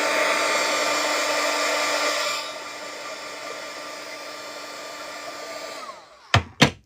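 Hair dryer blowing on wet watercolor paint, a loud steady whir that drops to a lower setting after about two seconds, then switches off with a short falling whine, followed by two brief bumps.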